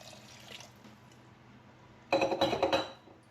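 Hot tap water is poured into a pan of malai kofta curry sauce with Kashmiri chili powder, making a short splashing, clinking burst of liquid after a quiet stretch of faint kitchen noise.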